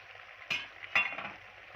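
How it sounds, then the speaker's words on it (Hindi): Boiled shell macaroni being stirred with vegetables and chicken in a pan, two distinct scraping, sizzling strokes about half a second apart over a faint low hiss, close and quiet, with nobody speaking. "मैक्रोनीज को अच्छी तरीके से वेजिटेबल्स और चिकन के साथ मिक्स कर लें।"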